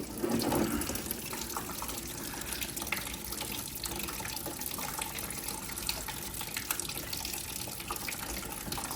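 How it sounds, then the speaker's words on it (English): Coolant draining from a 2018 Honda Africa Twin motorcycle, a steady pouring, trickling stream of liquid that runs continuously and fairly close, with no talk. "So that's the coolant coming out."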